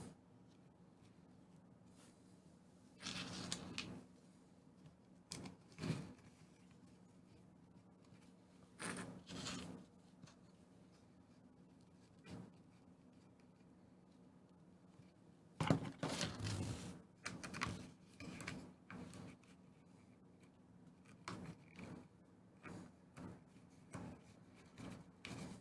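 Screw being driven into a Baby Yoda puppet build, heard as several separate bursts of close rasping and scraping with quiet pauses in between, the longest and busiest stretch coming late.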